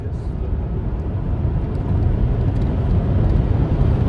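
An MG Cyberster electric sports car pushed to full throttle, heard from inside as a loud, dense low rumble of motor and road that swells noticeably after a couple of seconds, with no talking.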